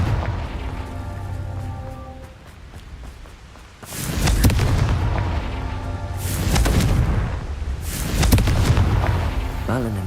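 The Confringo fire-blast spell goes off in Hogwarts Legacy as heavy booming explosions, several loud, rumbling bursts a couple of seconds apart, each trailing a crackling, debris-like wash.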